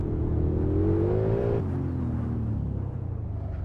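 A big turbo Godzilla-swapped S650 Mustang in the Assetto Corsa driving game, accelerating with a loud, steady engine drone that climbs in pitch, then drops after a gear change and continues rising, with whirring and rumble.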